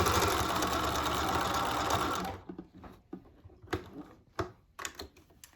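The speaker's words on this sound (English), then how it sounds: "I'm using a straight stitch machine with stretchy jersey fabric" A straight stitch sewing machine runs steadily while stitching stretchy jersey fabric for a button headband, a dense continuous whir close up that stops after about two seconds, followed by scattered clicks and handling noises.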